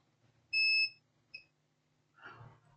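A multimeter beeps in continuity mode while testing pin 8 to ground on an HP ProBook 4530s laptop motherboard, one clear quarter-second electronic tone and a shorter second chirp, close and crisp, followed by a soft muffled handling rustle.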